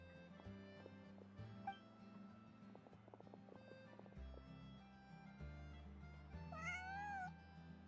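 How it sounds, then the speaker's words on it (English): A cat meows once over busy game music and ambience in Genshin Impact, a short rising cry heard midway, followed by a brief high whistling call near the end. "Cat भी है भाई."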